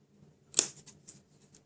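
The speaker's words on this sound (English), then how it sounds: "I'm going to get my scissors, and I'm going to trim these tails." A few quick snips of scissors trimming paper, one sharp and louder followed by several softer clips, close and quiet otherwise.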